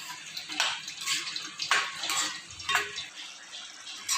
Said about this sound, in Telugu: కొన్ని వాటర్ అయితే యాడ్ చేస్తున్నాను. ఒక హాఫ్ గ్లాస్ అయితే వాటర్ యాడ్ చేస్తానండి.